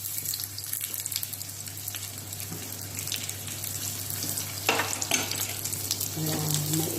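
Sweet potato frying in a pan, a steady close sizzle with some stirring scrapes throughout and no voices.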